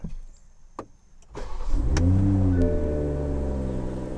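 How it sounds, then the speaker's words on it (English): A 2021 Toyota Supra engine cranking and firing up, a few clicks, then a loud starter whir that catches into a revving roar and settles into a steady, close idle, with no voices. "Okay, I'll start up for you."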